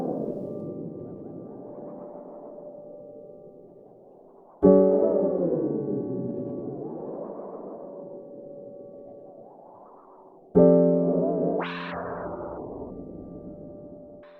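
Strymon NightSky reverb pedal running a sequence with glide, stepped tones sliding smoothly between pitches in a washy reverb, with two sharp new entries and a rising swoop near the end, alone with no talking.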